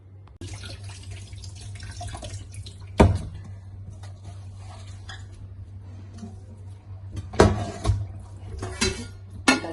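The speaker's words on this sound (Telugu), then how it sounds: "ఇంకా మనం నీళ్ళు వేసి కడిగి గిన్నెలో డ్రైన్ చేద్దాం" Water splashes and sloshes in a bowl while tender tamarind leaves are rinsed by hand, with occasional sharp clinks of a vessel and a steady low hum behind.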